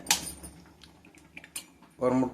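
An egg is cracked and stirred into a chicken 65 marinade with chilli powder, heard as a few sharp clinks and taps of a utensil against a bowl, separated by quiet gaps, ending in a short burst of speech.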